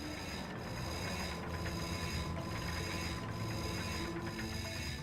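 A bolt crank spun in the Ratchet and Clank video game, giving a continuous ratcheting clatter with a steady, repeating pulse just under once a second.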